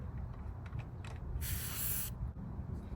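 A short, bright hiss of air as a valve stem cap tire pressure monitor is screwed onto a tire valve, lasting about half a second mid-clip over a low background rumble, close up.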